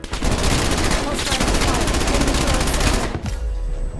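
A PPSh-41 submachine gun in Call of Duty Cold War rattles off a long, loud, rapid burst of automatic fire lasting about three seconds, then cuts off abruptly.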